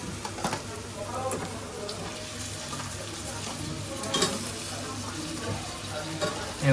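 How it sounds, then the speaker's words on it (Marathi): Crabs sizzle and crackle steadily in hot oil in a pan, a busy close frying hiss with occasional pops and stirring clatter, no talk over it. "आता आपण खेकडे टाकणार आता फ्राय इथे करून घेऊया तेलामध्ये"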